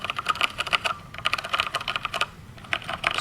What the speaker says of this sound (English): I'll press some keys so you can hear it a bit.